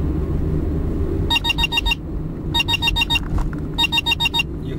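A radar detector speed alarm routed through a GPS mirror in a moving car sounds three bursts of rapid high-pitched electronic beeps over a low engine and road rumble.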